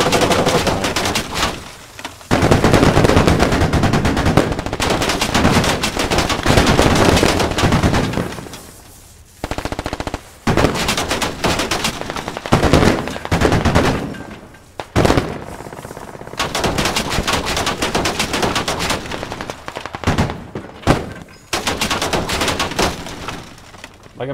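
Machine gun fire from a Squad firefight roars in long, loud sustained bursts with brief gaps, close and dominant throughout.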